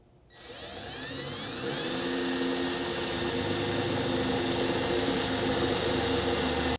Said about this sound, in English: starting with a smaller drill bit as more or less a pilot hole, we're going to drill these two out